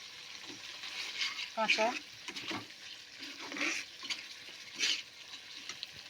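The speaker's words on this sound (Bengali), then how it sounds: "3 মিনিট হয়ে গেছে, মশলাটাই কষানো হচ্ছে।" A spice paste fried and stirred in a pan for a fish curry, a soft sizzle under intermittent scraping stir strokes, with a brief spoken word.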